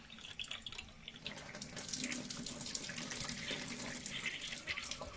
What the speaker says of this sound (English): Keep pouring water down there until the chalkiness is no longer, there's no deposits, you just want clear water running through